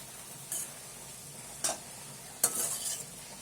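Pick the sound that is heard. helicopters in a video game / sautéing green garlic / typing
sautéing green garlic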